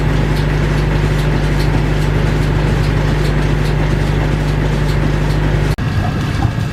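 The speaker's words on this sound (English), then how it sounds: "Now that we're underway, the engine is working harder and is a little louder." The steamship Punkaharju's engine drones steadily while underway, working harder, with a deep, constant hum and rumbling low tone, running unchanged until a sudden brief cut near the end.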